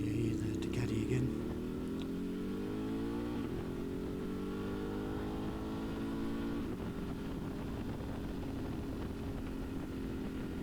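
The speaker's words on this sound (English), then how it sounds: "I'll just let you hear the Ducati again." A Ducati Desert X adventure motorcycle engine revs and runs steadily with strong harmonic drone, pitch rising then settling, fairly close and continuous throughout, with wind noise early on.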